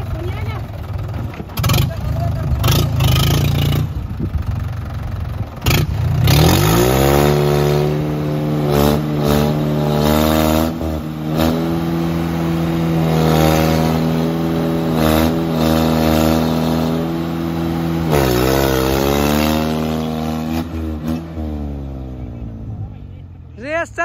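A Mahindra 585 XP Plus tractor engine revs hard during a stunt in Uttar Pradesh, climbing and holding at high pitch in long sustained pulls, loud and close, with brief drops between revs.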